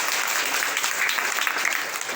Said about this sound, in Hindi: उनके लिए एक बार जोर से तालियां बजाएंगे सभी बच्चे